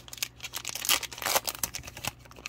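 A foil trading card pack of Donruss Optic football cards is torn and crinkled open in quick, dense rustling bursts, close up and steady for a couple of seconds.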